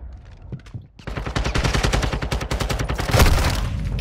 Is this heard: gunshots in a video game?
yes